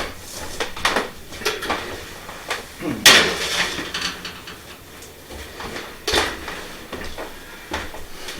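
A tray of crostini slides into an oven set to 275 degrees, with a single sharp metallic clank near the middle amid lighter kitchen clatter and handling noises.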